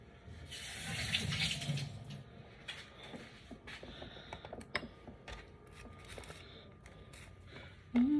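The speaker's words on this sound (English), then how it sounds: "Rinse these off." Running tap water splashes steadily into a sink as fruit is rinsed under it, a continuous close wash with small clatters and a louder bump near the end.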